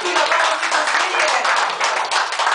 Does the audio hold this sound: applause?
yes